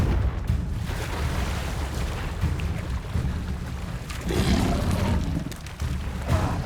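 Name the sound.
Confringo spell explosion from the video game Hogwarts Legacy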